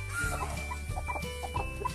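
Basilan hens, a Basilan cross with black Australorp kept free-range on a farm, cluck in soft, repeated bursts close by, several birds overlapping against a low steady background.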